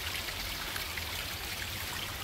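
Spring water pours steadily from a pipe at its source at Tecotrini in Ciudad Delgado, San Salvador, making a continuous close splashing rush with no voices.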